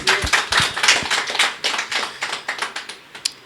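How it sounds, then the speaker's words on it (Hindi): A church congregation claps in a short burst for several seconds, the claps close and distinct, thinning toward a few scattered hand claps. "ताली बजा दीजिए"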